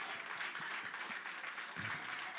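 Church congregation clapping in praise during a Spanish-language service, a steady broadband patter of many hands sustained across the whole moment at moderate level, with no clear talk over it.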